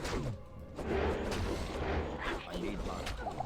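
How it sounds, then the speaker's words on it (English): Explosion spells cast by a Necromancer in Diablo 2: Lord of Destruction, with muffled booming blasts and crashes rumbling through game sounds while someone talks over them. "let's go for amp damage and another explosion"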